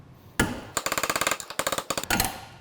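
A hammer taps a socket to drive a steering head bearing race on a BMW R80 RT motorcycle, giving a quick, loud run of sharp metallic knocks, close and rhythmic, with brief pauses between bursts and no talk.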